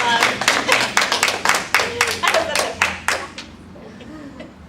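A small group claps together for a guest, a burst of quick, close hand claps that thins out and stops after about three seconds, followed by a short spoken remark and quiet room tone.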